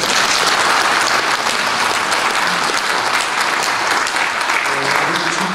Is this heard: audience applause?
yes